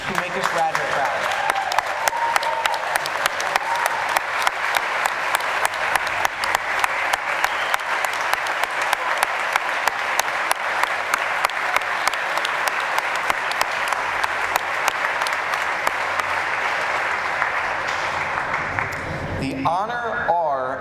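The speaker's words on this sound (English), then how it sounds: "Can we please stand in the biggest round of applause ever for these amazing athletes who make us Radnor proud." A standing crowd at a high school senior recognition night in Radnor gives athletes a long, loud, sustained ovation, dense clapping that carries on evenly for about twenty seconds before tapering off abruptly, with voices mixed in.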